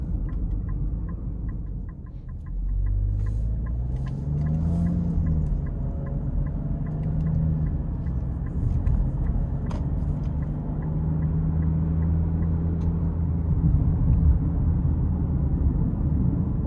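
Small 3-cylinder engine of a 2026 Nissan Rogue S in sport mode, heard from the cabin as a steady low drone that climbs in pitch as the car accelerates, with faint clicking and road noise.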